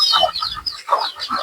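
Chickens on a hillside farm in the Philippines, with ducks nearby, clucking in short repeated bursts that sound close and moderately loud.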